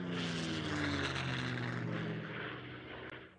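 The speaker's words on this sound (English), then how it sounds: "the first wave of Japanese planes roars over the horizon." Loud, steady drone of Japanese propeller warplanes passing overhead in the Pearl Harbor attack, a continuous engine roar with no voices that fades slightly toward the end.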